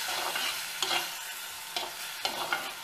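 Onions and spices for ghughari sizzle steadily in a pan, with a few sharp scraping stirs of a spoon breaking through the frying hiss.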